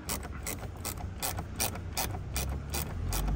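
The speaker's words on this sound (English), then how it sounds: "Okay, so we want to undo these bolts here." A ratchet clicks in a quick, regular rhythm while undoing bolts on a car's interior panel, a crisp nearby burst of pawl ticks with no talking.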